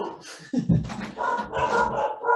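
A dog barks several times, fairly close, with a whimpering, yipping edge between barks; a second dog may join in.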